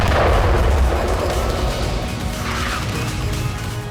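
A marine drone explodes near a ship in a heavy blast, rumbling with a crashing, booming burst, followed by sustained low rumble and debris-like noise.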